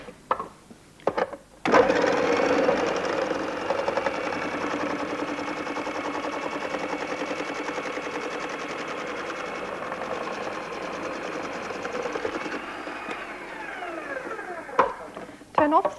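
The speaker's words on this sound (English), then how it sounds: "cut off the ends, put them into the machine" Philips Kitchen Helper food processor slicing carrots, a steady whirring motor hum with a rattling chop that starts abruptly, runs evenly for about eleven seconds and then winds down, with brief clatter and a voice around it.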